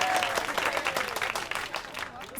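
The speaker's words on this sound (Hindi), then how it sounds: "धीरू भाई के लिए एक बार और तालियां हो जाए।" Crowd applause fills a scene in a Hindi-dubbed romantic film, dense continuous clapping at a moderate level throughout the short stretch.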